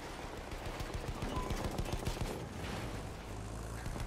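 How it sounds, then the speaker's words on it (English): Rapid automatic machine gun fire in Battlefield 1, loud and continuous bursts layered over a dense battlefield din with no clear talk. "There's a machine gun!"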